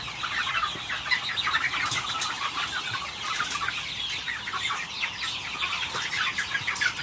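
Chickens cluck steadily in a chick brooder at night, a dense, continuous chorus of small peeping and clucking calls close by with occasional wing flutters.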